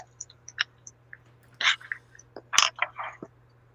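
Close, sporadic chewing and biting on steak and fried rice, with soft wet clicks and crunchy bursts separated by brief pauses, heard over a steady low hum, with no talking.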